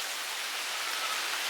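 A steady hiss of light rain mixed with rushing wind during Hurricane Nicholas in Houston at night, constant and unbroken throughout the brief moment.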